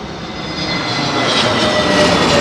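Aircraft engine roaring steadily at Heathrow Airport on a windy day, a loud, broad continuous drone that gradually swells over a few seconds, with no talking.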